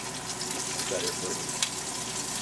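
Cuban empanadas frying in canola oil give off a steady, even sizzle with a few faint pops, moderately quiet and close.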